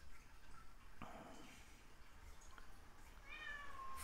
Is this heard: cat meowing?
yes